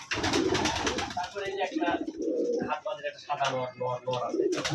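Rajshahi Giribaz pigeons coo repeatedly inside a loft, their soft rolling calls overlapping close to the microphone while someone talks over them.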